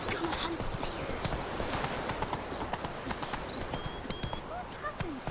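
A horse named Roach gallops through the fantasy game The Witcher 3, its hooves drumming in a quick, steady clip-clop rhythm beneath ambient game sounds and a voice.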